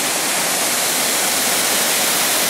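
The Pha Chuang waterfall pours in a constant, loud rush of falling water, a dense unbroken roar heard up close with no voices.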